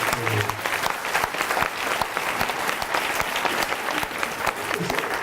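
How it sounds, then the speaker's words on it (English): An audience applauds Colin Reardon, the Vice-Chancellor, after his talk: a steady, dense roar of many hands clapping continuously for about five seconds, fairly close and loud, with a faint voice murmuring underneath near the start and end. "So a big round of applause, please, for Colin."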